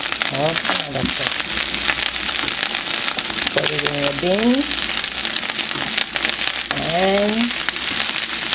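Fried rice sizzling and frying in a pot, a loud continuous crackling hiss with stirring scrapes, while a person talks over it in short bursts.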